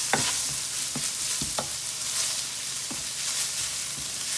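Garlic, cumin and chipotle sizzle in a hot pan with a constant frying hiss, while a utensil scrapes through the mixture in several short, sharp strokes.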